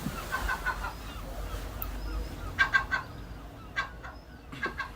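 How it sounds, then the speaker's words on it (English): Herring gulls in Birmingham city centre give short squawking, clucking calls in bursts of two or three notes, with a steady low outdoor rumble underneath. "I appreciate they are herring gulls."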